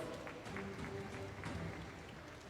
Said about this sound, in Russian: Провожаем аплодисментами наших призеров.